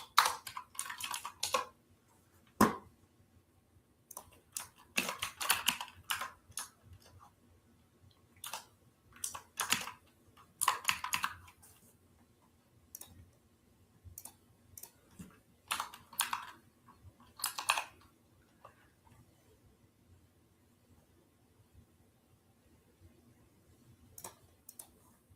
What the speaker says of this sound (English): You're going to hear my keyboard.